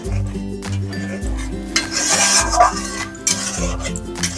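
Cauliflower and yogurt being stirred and sautéed in a pan, a continuous scraping and rubbing of a spoon against the pan with light clinks, close and fairly loud, over a low droning background.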